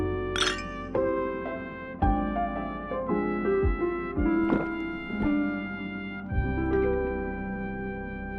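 Several glasses clink together in a ringing toast in Honkai: Star Rail, bright chimes repeating and decaying over a soft steady background.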